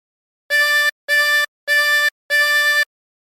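A 24-hole tremolo harmonica sounds four separate drawn notes on hole 10, each held about half a second with short even gaps, bright and reedy with a faint wavering shimmer, alone.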